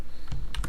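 Computer keyboard keys pressed for a Ctrl-plus shortcut in a spreadsheet, a few quick close clicks in a short burst.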